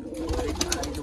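A pigeon coos softly in the main loft of a desi kabootar keeper, a couple of low cooing phrases close by over a steady background hum.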